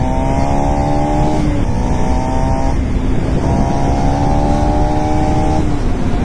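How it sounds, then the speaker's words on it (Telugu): A KTM Duke 390 motorcycle engine revs hard and loud from the rider's position, its pitch climbing steadily through successive gears with short dips at each shift, under heavy wind roar. "మన డ్యూక్ 390కి అయితే వచ్చేసాం. ఇది డౌన్ కదా, ఇప్పుడు పుల్ చూడండి"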